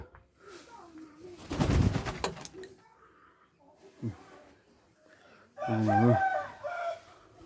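A wild junglefowl rooster crows nearby in a short, ringing burst near the end, with other bird and fowl sounds and a loud rustle or clatter earlier, against quiet outdoor background.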